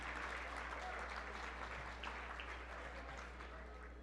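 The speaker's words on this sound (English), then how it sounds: "give them a big round of applause" At the 2019 Champions of the Arts gala, an audience applauds its sponsors with a steady, even wash of clapping that sounds distant and soft and stays constant throughout.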